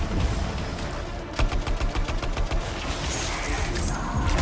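Rapid bursts of shotgun fire from the video game Anthem, a loud string of about a dozen evenly spaced blasts in the middle of dense combat noise, with no voices.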